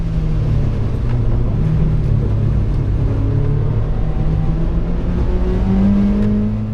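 Peugeot 205 race car lapping a track, a steady loud engine drone with gradually rising pitch as it pulls through the gears, close and continuous with no speech.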